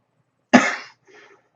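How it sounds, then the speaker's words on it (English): A single sharp, close cough, followed by a brief faint throat sound, with silence before and after. "I got to take care of this cough here."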